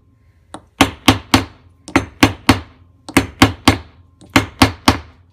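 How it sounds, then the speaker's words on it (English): Sharp metallic hammer blows strike a punch into metal in a dapping block in quick bursts of three or four, with short pauses between each group, close and ringing. "Place the metal inside the dapping block, add your punch, and then use a hammer."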